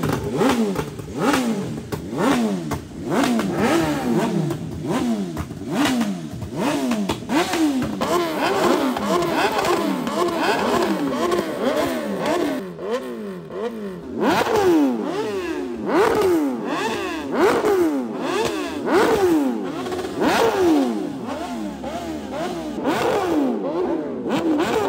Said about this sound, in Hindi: ये हमने फिर से बाइक स्टार्ट की है।